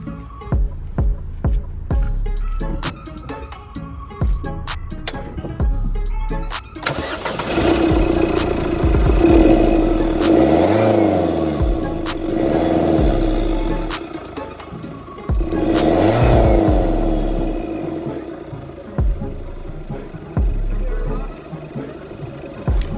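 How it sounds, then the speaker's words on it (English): A Ford Fiesta engine cranks and catches, then revs up in loud rising-and-falling bursts with a turbo whoosh and whistle, settling back to a rumbling idle. "I'm about to start the car and see how it sounds."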